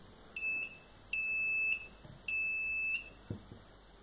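A homemade transistor burglar alarm sounds through a small buzzer, giving three steady electronic beeps, each about half a second long, evenly spaced and clear over a quiet background.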